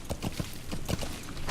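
Hooves of a galloping horse in Metal Gear Solid V: The Phantom Pain, a quick steady clip-clop rhythm of evenly spaced hoof strikes, close and fairly loud against a hiss of background noise.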